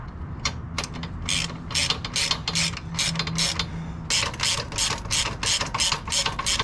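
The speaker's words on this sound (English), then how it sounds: "now I need to tighten the upper one" A ratchet tightens the upper crash bar bolt on a 2021 Honda Africa Twin. Rapid, close-up clicking comes in repeated short bursts with brief pauses, alone and clearly audible.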